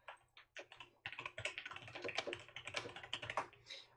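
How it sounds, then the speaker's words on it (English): Rapid clicky keystrokes on a brand-new mechanical keyboard, close and crisp, in uneven bursts with a short pause near the start, while playing Minecraft Bedwars. "if you hear my keyboard click clacking away"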